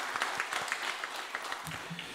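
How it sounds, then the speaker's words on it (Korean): A church congregation applauds the education committee at a monthly dawn prayer service, a steady wash of clapping with a few sharper claps standing out and faint voices mixed in. "여러분 우리 다시 한번 교육위원회 격려 박수 합시다"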